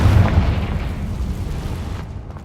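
Hogwarts Legacy's Confringo blasting curse erupts in one heavy, close explosion, a deep boom with a fiery crackling rumble that fades out over a couple of seconds.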